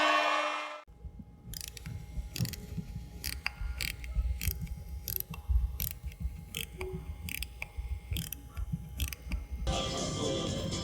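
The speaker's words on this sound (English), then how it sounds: "This watch was originally made for pocket watches, but this 17 jewel masterpiece has a beautiful sound." An ETA 6498 17-jewel mechanical movement, a pocket-watch calibre, ticks steadily in close-up, its sharp clicks repeating in a regular beat with faint mechanical whir between them, preceded by a brief burst of noise.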